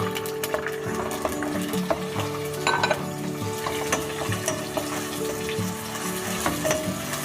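Chopped onions frying in a pan for a white mutton karahi, a steady close sizzle with occasional stirring clinks and scrapes of utensils against the pan throughout.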